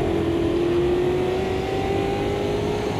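Race car engine in the Automobilista 2 sim at Monza, a steady loud drone with a rising pitch line, revving continuously while braking and downshifting into second gear, with no talk over it.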